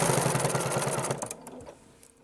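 A sewing machine runs steadily while stitching raw edge binding, a fast even whir that continues for about a second before slowing and trailing off.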